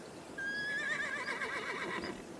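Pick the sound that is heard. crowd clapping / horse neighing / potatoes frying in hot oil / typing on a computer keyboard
horse neighing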